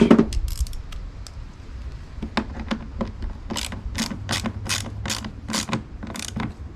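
A run of sharp ratcheting clicks as a socket wrench tightens the nut on a positive battery terminal in a DIY power station build, the clicks coming in quick, close bursts.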